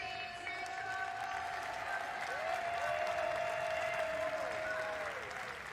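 A home crowd at a keirin cycling race applauds and cheers in a steady wash of clapping, moderately distant, with whistle-like tones sliding through and some talk mixed in.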